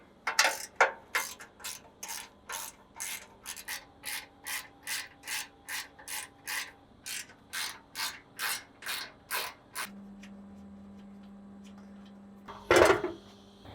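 Ratcheting wrench loosening the 12mm bolts on the skid plate of a 5th Gen Toyota 4Runner, a quick series of about twenty close, dry clicking strokes followed by a soft hum and one final clatter.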